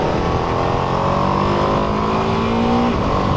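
A Ducati Multistrada V2S motorcycle's V2 engine runs loud and close with a steady, buzzing roar that climbs slightly in pitch toward the end, heard alone without talk.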